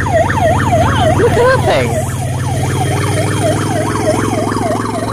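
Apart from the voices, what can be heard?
fire engine siren at a fire station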